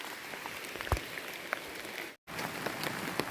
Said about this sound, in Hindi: काफ़ी ज़्यादा बारिश हो रही है, बहुत ही।